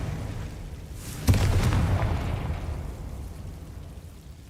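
Confringo blasting spell in Hogwarts Legacy, one sudden booming explosion with a crackling burst, then a long rumbling fade under steady ambience.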